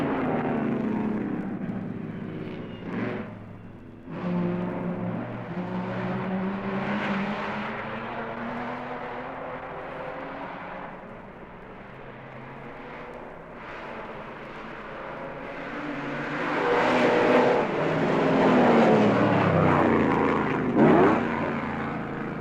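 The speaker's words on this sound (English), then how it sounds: "All round the circuit, the air reverberates to the thunderous exhausts" Several 1950s Mercedes racing cars, including a 3-litre and a W125, roar around the Oulton Park circuit in a swelling and fading thunder of exhausts, loudest as they pass near, with no talk over it.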